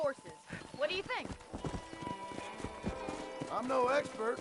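Horses in Red Dead Redemption clop across a ranch corral, hooves beating a steady rhythm with a brief whinny, all heard beneath ongoing talk.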